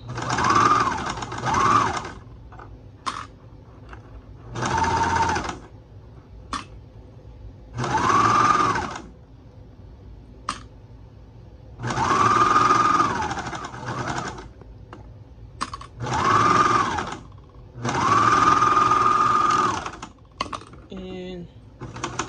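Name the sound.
serger overlock machine sewing socks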